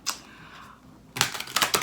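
Tarot cards are shuffled during a reading: one quick snap, a brief lull, then a loud run of rapid, crisp riffling clicks in close bursts, with no speech.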